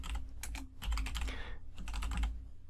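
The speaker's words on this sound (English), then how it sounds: "you just simply need to come in and type in that domain here" Fingers type a domain name on a computer keyboard in quick bursts of close, crisp key clicks, broken by two short pauses.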